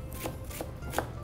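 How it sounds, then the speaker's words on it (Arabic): Three crisp knife strikes on a cutting board, evenly spaced, as an onion is chopped in a Tunisian restaurant kitchen; close and fairly quiet over a low background hum. "بدي شوف كيف بدي أقطع البصل"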